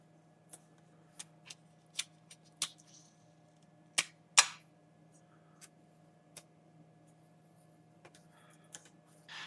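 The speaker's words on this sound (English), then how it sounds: "A couple pieces of our magic double-sided tape." Pieces of double-sided tape are torn and pressed down while setting up a PCB for engraving, heard as sparse, sharp close clicks and brief rips against a quiet room hum, with one louder tear near the middle.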